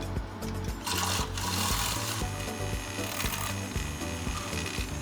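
Salted caramel latte whisked in small amounts, a close, continuous scratchy rubbing with a rhythmic back-and-forth pulse over a low hum, with no voices.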